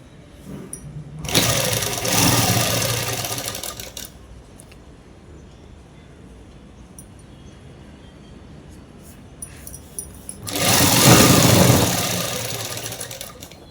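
A sewing machine stitches a shirt in two separate runs, each a few seconds of close, steady mechanical whirring, with a quiet pause between them.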